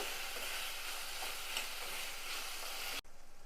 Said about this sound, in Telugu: ఆలు టమాటో అయితే ఉడుకుతున్నాయి కదా